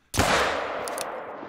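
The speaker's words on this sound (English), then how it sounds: "Now I'ma change to the Rhino and let's see if we can hit that female." A single loud Rhino rifle shot in theHunter: Call of the Wild, fired at a distant female animal on the Emerald Coast map, with a sharp onset and a long rolling echo that trails away.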